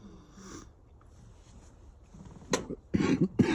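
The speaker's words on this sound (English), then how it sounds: "Sorry about the nasty cough." Several harsh, congested coughs from a sick person, close to the microphone, arriving as a few sharp bursts in the latter half after a quieter start with breathy sniffing sounds.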